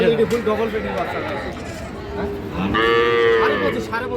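A young bull calf moos loudly and nearby, one drawn-out call near the end, while people haggle over prices in a busy cattle market in Dhaka.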